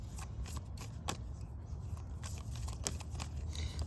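Moonology oracle cards being shuffled by hand, a soft, continuous riffle of papery flicks and slides, quiet and close, with no talk.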